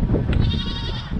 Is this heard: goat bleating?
yes